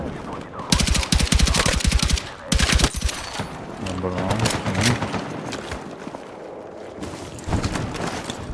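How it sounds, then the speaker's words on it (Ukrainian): Bursts of rapid machine gun fire crackle in Battlefield 6, two sharp volleys up front and another later, with someone talking between them. "У нас там кулеметник сидить, стріляє."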